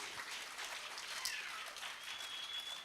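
An audience at a SHOFCO SACCO annual general meeting applauds SHOFCO, a soft, distant patter of many hands clapping steadily throughout.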